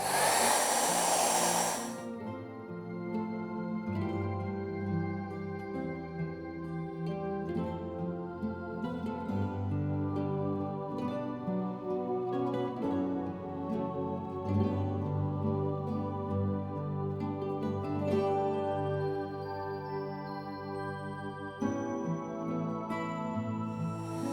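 A hair dryer blows steadily on a wet watercolour painting of a misty forest lake scene, a loud, continuous whirring drone that runs unbroken from start to finish after a brief rush of air at the start.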